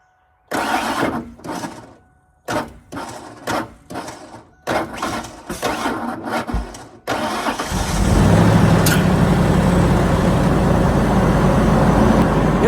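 An old truck engine cranks in several separate bursts, then catches and settles into a loud, steady run. The sound is close and dominates the scene, with no voices.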